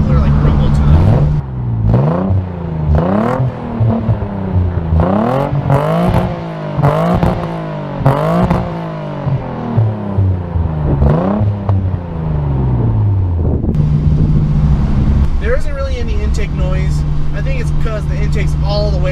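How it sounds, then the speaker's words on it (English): A Nissan 300ZX engine with a MagnaFlow exhaust gives a loud, steady rumble that rises and falls through repeated revs, with a quieter stretch of talk near the end. "It kind of actually sounds like old 80s V6 Ferraris."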